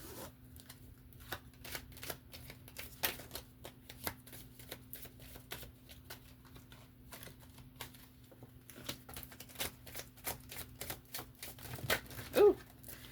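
A deck of cards is shuffled by hand at close range, rapid riffling bursts and soft slaps repeating over several seconds, quiet and with no talking.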